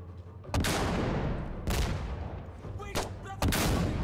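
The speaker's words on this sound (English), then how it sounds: "So I like hitting their spawn with an RPG like this." In Insurgency Sandstorm, an RPG shot and several sharp blasts crack out in quick succession, loud and close. Each sudden boom trails into a noisy rumble, and no one talks over them.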